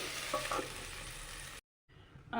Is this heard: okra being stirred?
yes